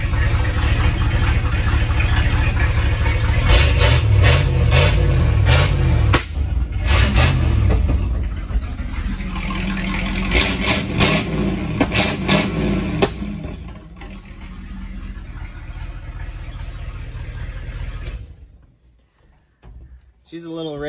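A Ford Highboy yard truck engine with freshly changed spark plugs and a 500 CFM carburetor, running a little rich: loud and close, idling with repeated revs, then dropping away to near quiet at the end.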